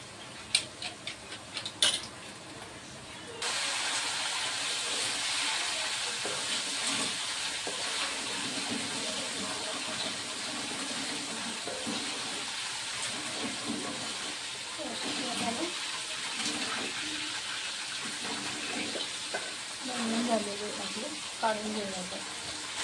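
Frying banana chips hiss loudly and evenly once turmeric and salt water is poured into the hot oil, a dense, sustained sizzle that follows a few brief clatters at the start and continues for over twenty seconds.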